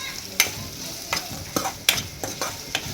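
A spoon stirs a spice mix into a simmering vegetable saaru, with sharp scraping strokes against the pot every half second or so over a soft bubbling sizzle.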